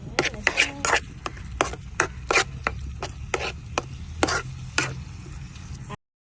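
Chopped onion and tomato being mixed in a pan, a series of separate close scraping stir strokes over a faint low sizzle, uneven in rhythm and fairly quiet, with no talking.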